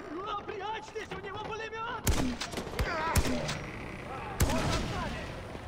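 Machine gun fire in the Far Cry 4 video game comes as sharp, loud shots and short bursts in the second half, after someone talks at the start and while faint voices continue underneath.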